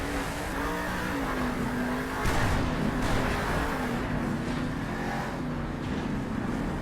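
A monster truck engine revs hard and steadily during a Monster Jam race in an arena, loud and sustained with a continuous droning tone and a brief surge partway through.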